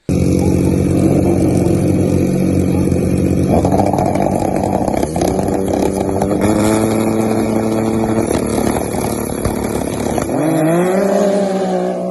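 Pro Mod snowmobiles drag racing on asphalt, loud sustained high-revving engine roar close by, with the pitch climbing through gear changes before dropping off near the end.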